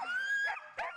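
Almost year-old sled dogs in training in Alaska give short yelping, whining barks, a sustained whimpering tone broken by two sharp yips, close and fairly loud.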